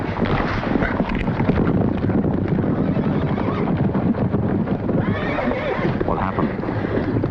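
A horse neighs amid a dense, busy battle-like din, with hoof clatter and rushing noise mixed throughout, loud and continuous with no clear speech.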